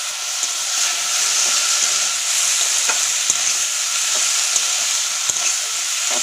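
Bathua greens fry loudly in a pan with pre-fried eggplant added, a dense continuous sizzle broken by sharp spatula taps and scrapes at irregular intervals.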